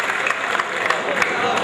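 A mushaira audience in Bhiwandi breaks into applause, a dense wash of clapping from a crowd filling the hall steadily, with a voice carrying over it.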